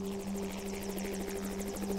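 A helicopter's rotor thumps and whines steadily through the air in a snowy winter setting, a continuous rhythmic chopping with a droning tone underneath and no voices.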